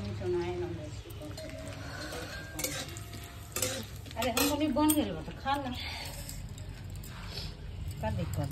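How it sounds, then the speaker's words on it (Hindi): Food frying in a pan for chokha, a steady sizzle with a utensil stirring and scraping against the metal and light clinks, while someone talks over it at close range. "मैं यहाँ पे चोखा के लिए फ्राई कर रही"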